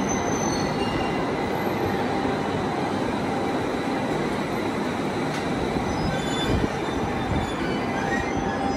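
A JR East Joban Line up train runs steadily and loud, wheels squealing and rails humming throughout, with a brief clunk near the end and no voices.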